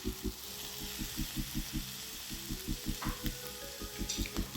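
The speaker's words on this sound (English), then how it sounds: "stir it around to prevent the rice from only frying on one side" Shrimp fried rice sizzling in a pan while being stirred, a steady close frying hiss punctuated by rhythmic scraping strokes of the spatula, with no talking.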